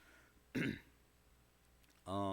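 A cough or throat-clearing rings out from the congregation at a midweek church service, one short close burst, followed after a pause by a voice beginning to speak.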